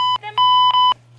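A cartoon beep sound effect gives short electronic tones in quick succession, loud and close with clean pitched steps, over a low steady hum.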